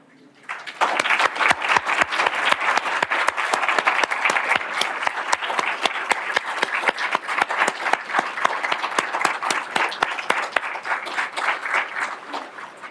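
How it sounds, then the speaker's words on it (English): Veterans at a city council meeting receive a round of applause: the dense clapping starts after a short quiet lead-in, then holds steady and fairly close for about twelve seconds, with some individual claps standing out. "I'd like to ask every veteran in the room to please stand so we can give you a round of applause."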